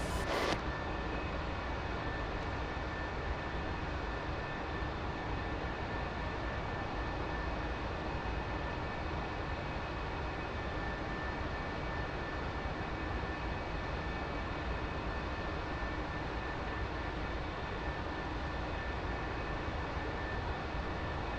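F-4E jet engine idling before taxi in the DCS flight simulator, a steady unbroken whine and roar held at an even level throughout.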